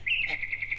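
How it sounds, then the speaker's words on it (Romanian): A nightingale's brief, bright, high whistling note, clear and fairly close, lasting under a second with no talking. "Auziți? Cântă privighetoarea."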